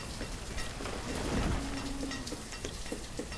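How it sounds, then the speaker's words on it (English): Rain falling in the city-building video game Banished, a steady, even hiss that fills the whole clip at a moderate level. "So you'll notice right now it's raining"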